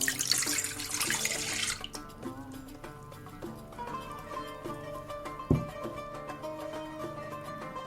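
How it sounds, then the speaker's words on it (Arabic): Milk pours into a bowl as the first liquid for a soft beehive bread dough, a brief rushing splash lasting under two seconds before music carries on alone. "رح نبلش بإضافة الحليب"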